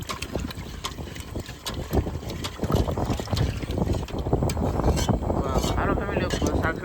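Strong sea wind buffets a fishing boat several days out at sea, giving a dense, steady roar with rapid gusty thumps against the microphone. Faint voices are partly buried in it.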